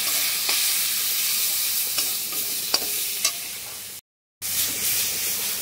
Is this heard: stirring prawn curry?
yes